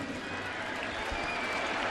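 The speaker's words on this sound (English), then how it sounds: "You're going to hear a boo and a cheer here, all in the same walk." A baseball stadium crowd at a Giants–Yankees game gives a broad, distant roar of mixed booing and cheering, steady and sustained.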